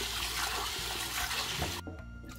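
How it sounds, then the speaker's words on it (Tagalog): Water runs and swirls as mung beans are rinsed in a saucepan, a steady close splashing wash that stops abruptly, leaving a faint trickle. "nilagyan ko siya ng tubig at ating hugasan ng ating munggo"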